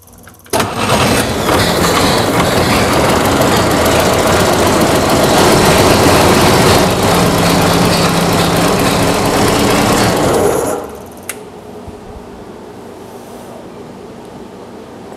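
Boat engine starting up after a brief crank, then running loud and steady for about ten seconds before dropping abruptly to a much quieter low idle.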